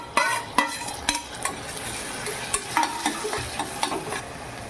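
Tomatoes added to frying onions in a pan, sizzling and frying with repeated scraping stirs at a steady rhythm, close by and moderately loud.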